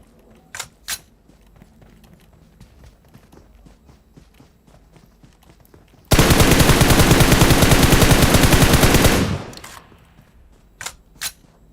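Gunfire in PUBG Mobile: a loud, sustained automatic burst lasting about three seconds, framed by scattered fainter single shots and footsteps in the distance.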